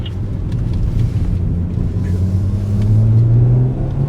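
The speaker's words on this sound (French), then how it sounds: "Il y a un groupe qui arrive derrière nous, on reste bien à droite, on va les laisser passer dans la ligne droite" BMW X6, M6 and white M3 overtaking on the straight at Le Castellet circuit, heard from inside another car as a steady engine rumble swelling with a rising drone as the group passes close by.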